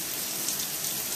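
Heavy rain pours steadily in Dubai, a dense continuous hiss of drops drumming on surfaces, close and even throughout with no voices.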